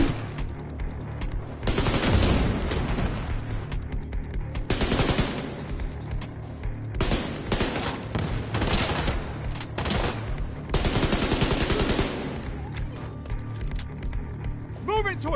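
Rapid automatic gunfire in the shooter game The Division 2, with repeated dense bursts of fire broken by short pauses, loud and close, with voices speaking over it.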